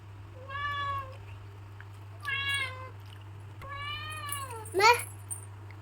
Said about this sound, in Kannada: ಅದು ಬೆಕ್ಕು ಅಲ್ಲಿ ಆ ಕಡೆ ಮನೆ ಹತ್ರ ಇತ್ತು